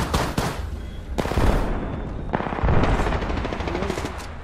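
Rapid bursts of automatic gunfire in the battle royale shooter Apex Legends, several loud close volleys with brief gaps between them, dense and continuous with no voices.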